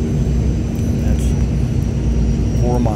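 A small airplane's engine drones loudly and steadily in flight just before touchdown, a constant low hum filling the cabin with a faint rising whine near the end.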